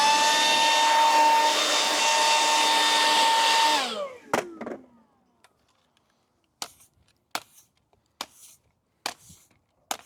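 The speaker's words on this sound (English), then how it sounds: "you're just putting the leaf blower right down into the gully and blowing it that way" Leaf blower aimed into a street gully at a skate spot, roaring loudly and steadily for about four seconds before winding down, followed by quiet with several sharp scraping and tapping sounds.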